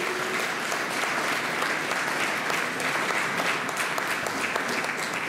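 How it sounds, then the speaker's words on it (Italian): A crowd gives steady, loud applause for the volunteers at a 2019 living nativity event in Panettieri. The dense clapping runs unbroken for the whole stretch. "fatto un applauso veramente forte a tutti."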